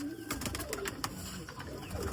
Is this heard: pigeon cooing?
yes